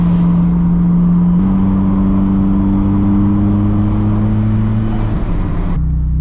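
A built Nissan S15 accelerates hard under turbo boost, its engine note climbing loud and close through a gear change, then dropping off as the throttle lifts near the end.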